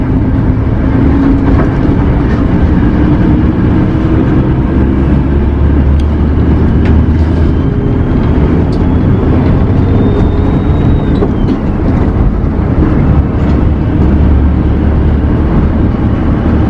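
A car engine pulls steadily while driving, a continuous loud low rumble and road noise running throughout with no pauses.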